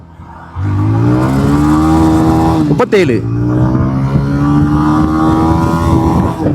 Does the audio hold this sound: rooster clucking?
no